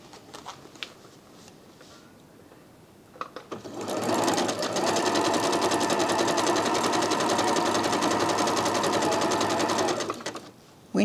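A sewing machine zigzag-stitches quilt pieces together in a quilt-as-you-go project, starting after a few soft handling sounds and then running in a fast, even, continuous whir for about seven seconds before stopping abruptly.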